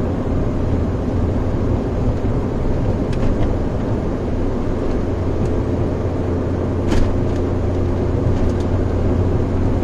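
An Alfa Romeo 33 driving up a steep hill in fifth gear at about 80, heard from inside the cabin as a loud, steady engine drone with road and wind rumble, broken only by a few brief clicks.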